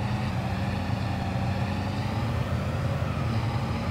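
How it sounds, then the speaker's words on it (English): A truck engine in the farming game Farming Simulator 22 drones steadily with a deep, rumbling low end, loud and continuous throughout with no talk over it. "I do really like the truck. Just listen to that sound, it's so cool"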